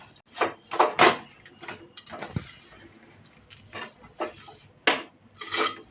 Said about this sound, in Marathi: बारीक केलेले कुटलेले शेंगदाणे घालायचे आणि वेलची पावडर घालायची आणि चांगलं त्याला मिक्स करायचं